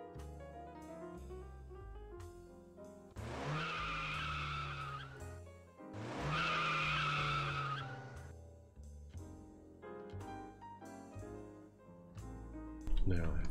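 Tires screech in two long skids in a Hitman video game, over a busy soundscape with music and engine sounds, with voices chattering throughout.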